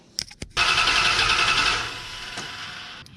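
A Dodge Dakota R/T engine cranking over on the starter during a compression test, a steady rhythmic whirring churn for about a second and a half that then fades, preceded by a couple of short clicks.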